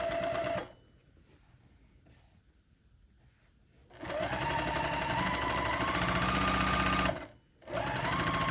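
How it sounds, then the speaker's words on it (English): A sewing machine stitches across the corner of a quilt block. It runs in a steady, fast mechanical chatter, pauses for a few seconds, runs again and stops briefly near the end. "And then we're going to sew across here."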